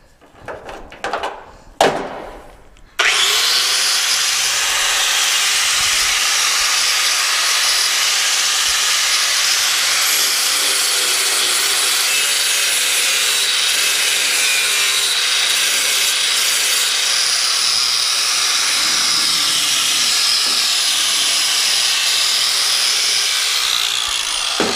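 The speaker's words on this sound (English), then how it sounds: "Now I'm going to grind her down." An angle grinder works steadily on freshly welded steel tubing of a 1967 Chevelle roll cage, a loud continuous abrasive whine running without break for over twenty seconds after a few brief knocks and clatters.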